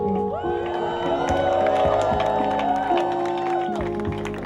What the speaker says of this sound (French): Si tu es content, tu vas pousser des cris de joie.